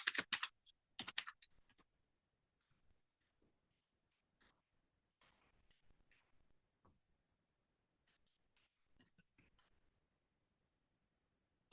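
An email address is typed on a computer keyboard in short bursts of key clicks, loud at first and then quieter and sparser with pauses between keystrokes.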